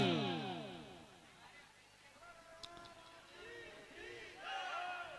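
A devotional gathering at a Bhagwat Katha in Gwalior, where a crowd raises a loud ringing chant in praise of Dwarkadhish that swells, fades, then rises again, with a voice calling over it.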